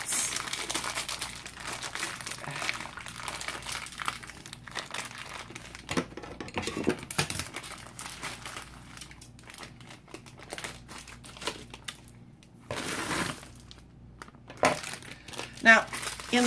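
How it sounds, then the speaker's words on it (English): Chips being stirred into cookie dough, with crinkling and crushing sounds up close that build into louder bursts of mixing. A voice speaks at times over the noise. "So now it says to mix in my bag of chips."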